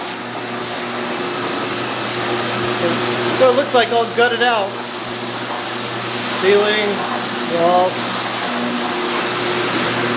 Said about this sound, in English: The noise you hear is really running the floor scrubber.